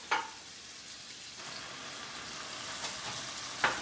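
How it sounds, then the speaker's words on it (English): A pot of water boils for pasta, a steady bubbling hiss that runs throughout, with a couple of sharp clinks at the start and end. "The water is boiling"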